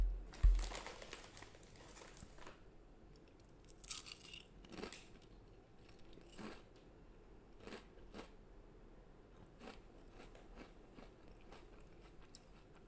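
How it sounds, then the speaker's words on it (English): Potato chips are chewed close to a headset microphone. Faint, irregular crunchy bites and mouth noises are scattered over a low background hiss, with one louder thump near the start. "Can you hear me chewing the potato chips?"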